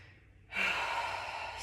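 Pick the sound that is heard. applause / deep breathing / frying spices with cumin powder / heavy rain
deep breathing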